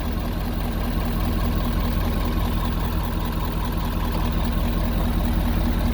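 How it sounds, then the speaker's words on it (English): A 2019 Ford F-350 Super Duty Lariat FX4 dually with the Powerstroke turbodiesel idles, a steady, loud, low rumbling drone with an even mechanical clatter, unbroken throughout. "that Powerstroke Turbodiesel is sounding good"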